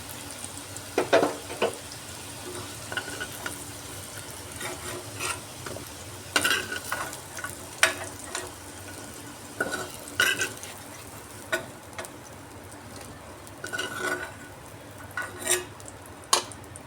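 Potatoes sizzle softly in a pan as they fry until reddish-brown while a utensil stirs and scrapes, with intermittent clinks and taps over the low frying hiss.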